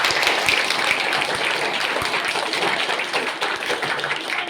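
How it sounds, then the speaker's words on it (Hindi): At an institute event an indoor crowd applauds a teacher with a dense, continuous patter of clapping, loud and sustained with a few sharper taps throughout. "इनका जोरदार तालियों से स्वागत होना चाहिए"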